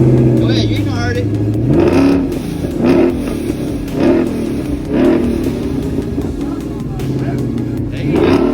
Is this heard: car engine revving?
yes